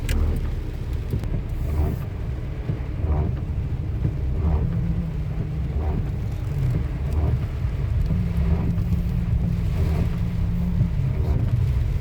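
Rain falls steadily while cars pass on a wet road in Qatar, the tyre hiss and engine rumble rising and fading repeatedly over a constant low roar of rainfall.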